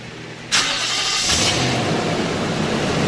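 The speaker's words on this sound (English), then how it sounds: "So start the truck real quick." A Nissan Titan pickup truck's engine cranks and fires up abruptly, then settles into a loud, steady idle close by, with no talk.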